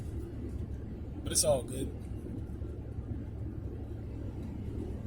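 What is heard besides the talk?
car engine rumble while driving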